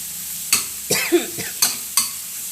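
Squid stir-fried in a hot pan, with sharp spatula scrapes and clanks in quick succession over a light sizzle, close and loud.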